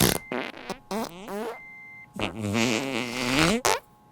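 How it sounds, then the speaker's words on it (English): Comedic fart sound effects, a string of short blurts followed by a long, wavering, rubbery squeal, loud and close with brief silences between bursts. "A doctor farted."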